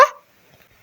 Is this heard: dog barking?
yes